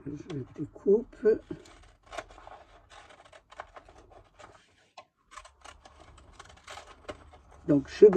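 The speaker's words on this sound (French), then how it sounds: "je découpe." Scissors snip through paper in a craft project, a run of close, crisp cutting and rustling strokes. Someone talks briefly at the start and again at the end.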